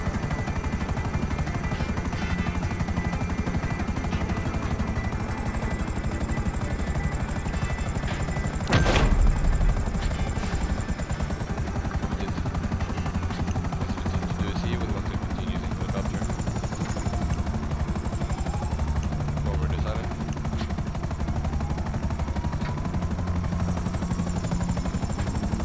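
A helicopter in a video game drones steadily for the whole stretch, loud and continuous, with a single sharp burst like a shot or impact near the middle and scattered faint crackles of distant gunfire.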